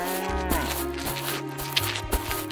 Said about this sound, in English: Hey, look, it's a cow.